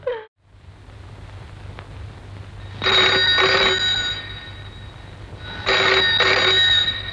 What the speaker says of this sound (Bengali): আমি ফোনটা ধরবো?